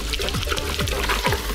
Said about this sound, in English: Oh yeah, look at that pour.